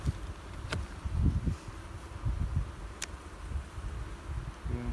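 Honey bees buzzing around their hive as they draw out comb, a low, continuous droning hum with swelling and fading pulses, close by, with faint sharp ticks over it.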